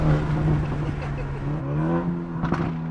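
A BMW G20 330i with a valved exhaust and freeflow downpipe accelerates close by, its engine note climbing in pitch as revs build, then a short crackle near the end.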